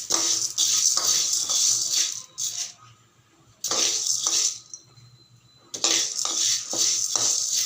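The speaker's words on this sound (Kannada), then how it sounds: "ಇವಾಗ ಒಂದು ಬಾಣಲೆ ಇಟ್ಕೊಂಡು ಎಷ್ಟು ಬೇಕೋ ಅಷ್ಟನ್ನು ಒಂದು ಸ್ವಲ್ಪ ಫ್ರೈ ಮಾಡ್ಕೊಳ್ಳೋಣ" Barley dry-frying in a pan as it is stirred: bursts of dry, grainy rattling and scraping against the pan, broken by short pauses, loud and close with no talking.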